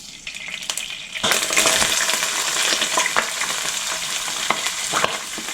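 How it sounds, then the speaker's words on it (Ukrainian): Melted butter spatters into about two tablespoons of hot oil in a pan, a busy sizzle with clinks and scraping of a utensil, steady and close. "наливаю трішки олії, ну, може, десь зо 2 столові ложки. Далі додаю топлене вершкове масло"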